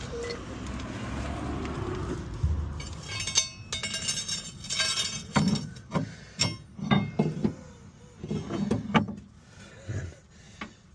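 A metal bar levering a bolt through the drive shaft hub on a Ford Escort Mk3 pickup, giving a run of sharp metallic clinks and knocks, close and uneven, over low workshop rumble.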